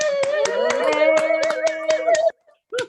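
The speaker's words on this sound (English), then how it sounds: "let's give a Major League round of applause to Carol Gay, our producer" Scattered hand claps sound over a Zoom call for a producer, about ten sharp claps in a loose rhythm layered over a sustained voice, then a short pause and one more burst.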